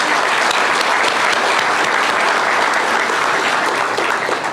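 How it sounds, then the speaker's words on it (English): Loud, dense applause fills a crowd at the official opening of a Twiga Foods distribution centre in Kiambu County, Kenya, steady throughout with no voices on top. "you deserve a huge round of applause."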